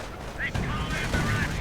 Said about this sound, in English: Armored car doing damage. Rolling about. Blasting away with this auto cannon.